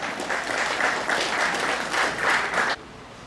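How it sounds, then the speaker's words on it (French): Warm applause for the graduates at a graduation ceremony, a steady crowd clapping that ends abruptly near the close, leaving quiet room tone. "Encore une fois, applaudis les gradués."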